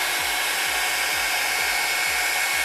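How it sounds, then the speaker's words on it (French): A hair dryer runs steadily and loudly throughout, its broad airy whoosh joined by a low pulsing hum that repeats at a regular beat, with no voices. "on va prendre ici un sèche-cheveux"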